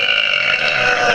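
One long, loud burp from a person going for an extra-big belch, a sustained throaty rasp that carries steadily for over a second without any talk.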